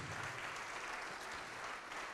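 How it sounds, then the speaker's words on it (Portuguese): A church congregation applauding together, a steady dense wash of clapping heard from within the crowd. "Vamos aplaudir mais ao nome de Jesus."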